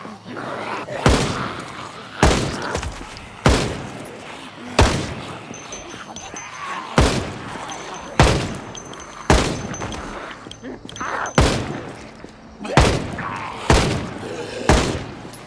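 Gunshots ring out in Project Zomboid, a dozen loud sharp reports spaced roughly a second apart, each with a short decaying tail over faint background ambience.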